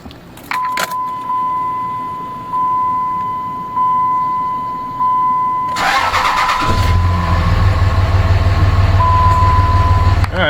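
Keys jangle near a Dodge Ram truck with a 48RE transmission as a steady chime sounds, then the engine cranks and fires up close by and settles into a loud, steady idle.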